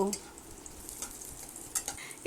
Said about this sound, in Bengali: এবার দিয়ে দিলাম কিশমিশগুলো কিশমিশ দিয়েও হালকা করে ভেজে নেব